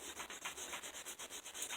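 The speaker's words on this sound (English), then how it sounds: "Just sanding on my crank." A crankshaft from a 5 hp Briggs and Stratton engine is sanded by hand in quick, even back-and-forth rubbing strokes, about ten close rhythmic passes, faint and without talk.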